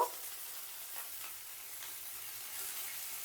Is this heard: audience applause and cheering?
no